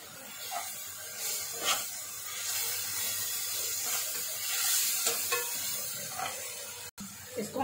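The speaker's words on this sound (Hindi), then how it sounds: "और अब ये डालेंगे हम ये अदरक लहसुन का पेस्ट, इसको भी अच्छे से पकने देंगे।" Ginger garlic paste cooking in a pan for egg korma, a steady hissing sizzle with intermittent stirring scrapes, faint voices now and then underneath.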